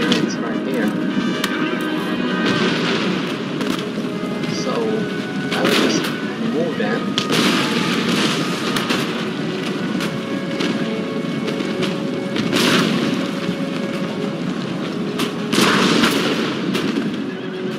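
Cannon and artillery fire in the Empire Total War strategy game during a battle, repeated booming shots and impacts over continuous battle din, with someone talking over the action.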